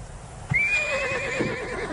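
A horse gives one clear whinny: a rising, wavering call that starts sharply and trails off over about a second and a half, heard close and alone over faint background noise.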